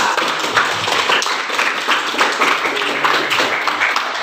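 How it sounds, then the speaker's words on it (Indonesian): A school class claps together in a classroom, a dense, lively patter of hands at close range that carries on for a few seconds. "Tepuk tangan untuk kelas kita."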